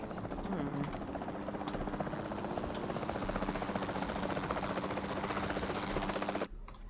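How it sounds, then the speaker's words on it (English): A capture team helicopter in Jurassic World Evolution 2 gives off a steady, loud rotor thrum that continues unbroken for several seconds, then cuts off abruptly near the end. "This helicopter is still rather loud."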